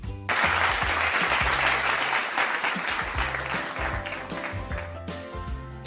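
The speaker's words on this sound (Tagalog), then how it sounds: "Palakpak naman dyan kung handa na kayo sa inyong pagsusulit." Steady clapping from a group, answering a call to applaud before a quiz in an elementary values-education lesson, runs dense and even for about six seconds with background music playing underneath.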